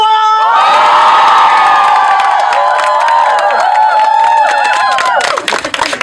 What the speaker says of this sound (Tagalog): pero bago ang lahat, sigawan!